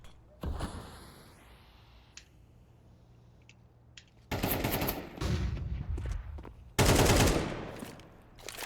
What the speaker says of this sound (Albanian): Goditje shpejt e Gencit këto drejt connector